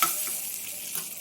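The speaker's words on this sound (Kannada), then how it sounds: "ಹಾಕಿ ಫ್ರೈ ಮಾಡ್ಕೊಳ್ಳಿ." Chilli powder and asafoetida fry in hot oil in a pan, giving a soft, steady, continuous sizzle heard up close with no voices.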